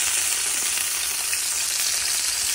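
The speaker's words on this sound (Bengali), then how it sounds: "হালকা করে মাছটাকে ভেজে নিলে" Hilsa fish fries lightly in hot oil with a loud, continuous close-up sizzle, a dense, even crackle that never lets up.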